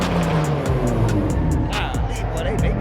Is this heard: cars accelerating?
yes